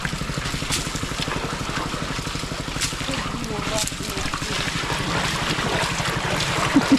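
A motor-driven water pump drains water at a creek where people pan for gold. Its engine throbs in a steady, close pulse throughout, over wind and rushing water.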